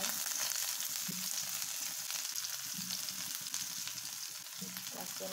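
Dried chillies, garlic and onion frying in hot oil give a steady, bright sizzle with occasional stirring scrapes, fairly quiet and with no voices.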